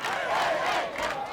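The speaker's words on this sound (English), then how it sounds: "The crowd is clapping and singing and stomping and cheering" Dense football stadium crowd at a Beech Grove versus Scecina high school game, singing and cheering in a steady, sustained roar that fills the whole brief moment.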